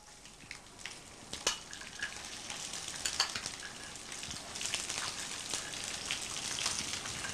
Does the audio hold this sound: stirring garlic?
yes